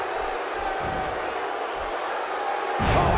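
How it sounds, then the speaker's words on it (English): Steady arena crowd buzz in a WWE 2K16 wrestling game, a broad continuous murmur that swells louder near the end, with no clear talk over it. "The crowd is buzzing"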